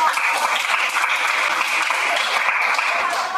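Classroom applause for a student group presenting in a Year 12 Indonesian language lesson, loud steady clapping from many hands, close and continuous throughout.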